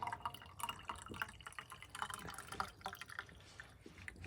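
Water gushes and drips through small pipes in a well house as pressure builds, a quiet, irregular trickling and splashing with scattered drips, no voices.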